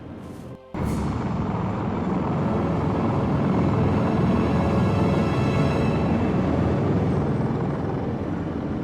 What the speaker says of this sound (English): Hey, do you hear that? Another helicopter.